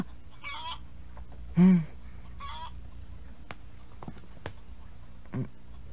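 Several short chicken clucks sound in quick bursts, one louder squawk standing out, over a quiet background with a few faint knocks.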